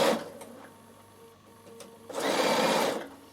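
Bernina sewing machine stitching lace, its motor whirring steadily with a louder, busier burst toward the end, close up and with no talk.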